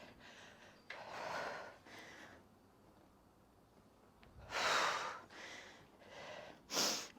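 Heavy, forceful breaths during a body-conditioning workout, several loud breathy bursts with quieter gaps between them, close to the microphone.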